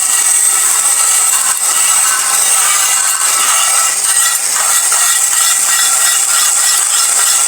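A small sanding ball rubs over parts of an old Mamod SR1 toy steam roller, giving a steady, close, airy scratching hiss that runs unbroken for the whole stretch with no voices.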